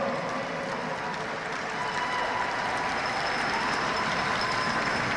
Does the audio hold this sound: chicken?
no